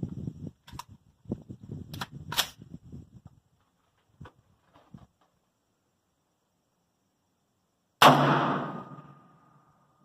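A 9mm blowback pistol with a 2.5-inch barrel fires a single sharp, loud shot with a ringing tail near the end, preceded by quiet handling clicks and rustles.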